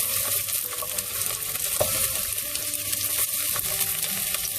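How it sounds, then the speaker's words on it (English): Roughly chopped onions hitting hot oil with caramelized garlic in a pan, a steady close sizzle and crackle throughout with occasional scraping stirs, no talking. "To this I'm going to add roughly chopped onions."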